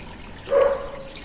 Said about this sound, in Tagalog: Ito naman yung isa iba pang daanan ng tubig na papunta sa singkol na yan.